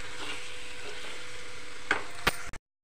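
Egg curry with coriander powder and garam masala is stirred in a pan, giving a close, steady sizzle with soft scraping strokes and a couple of sharp clinks near the end before it stops.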